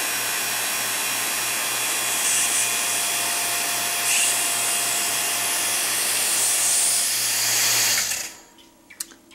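A vacuum pump runs for Cactus Juice resin stabilizing of ebony for a pen, a loud steady motor whine with a constant hum, then it switches off and winds down, leaving a few small clicks.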